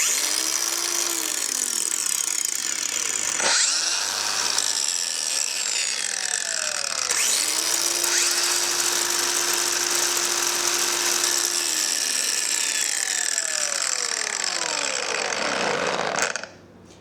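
A Makita DGA504 cordless brushless angle grinder whines loudly at high speed, starting and stopping several times with rising spin-up and falling spin-down tones, then cutting off abruptly near the end.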